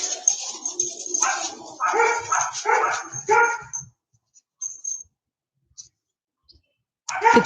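Two pet dogs bark and yip in quick, lively bursts at close range, then fall quiet with only a few faint clicks before a final loud yelp.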